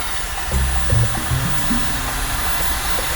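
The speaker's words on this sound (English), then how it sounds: "Now I'm gonna use a blow dryer to speed up the process." A hair dryer blows continuously up close while drying layers applied to a face, a steady loud whooshing hiss with brief low tonal hums near the start.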